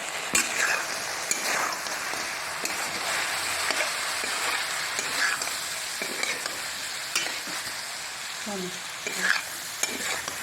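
Cumin, coriander and garam masala are stirred in a hot frying pan, giving a steady sizzle with repeated scraping strokes of the spoon against the pan, close and fairly quiet.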